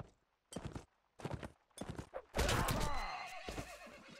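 A horse neighs loudly in Mount & Blade Warband amid battle, with clip-clop hoofbeats and short bursts of commotion leading into a long, strong whinny near the end.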